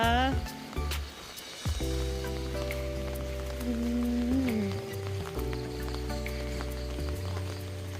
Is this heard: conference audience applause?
no